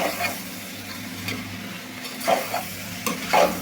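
Beans and tomato pieces cook in a pan for a curry, giving a steady low sizzle with a few louder stirring scrapes near the end, close and with no talking.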